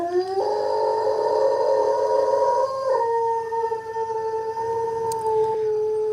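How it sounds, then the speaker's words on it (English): A dog howls at a passing fire truck siren in long, drawn-out wavering tones, shifting pitch partway through, with the siren-like wail and faint background noise. "Yeah, she's a howler. Any kind of sirens, she starts howling."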